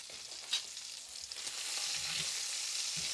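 Shrimp-and-grits meat pieces crisping in their own rendered fat, giving a steady close sizzle with a couple of brief stirring scrapes; no one speaks.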